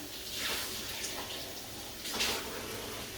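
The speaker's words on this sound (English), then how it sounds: "first I give it a good rinse with water" Tap water splashes into a BlendJet portable blender jar as it is rinsed, a close, hissing stream with brief louder bursts and sloshing.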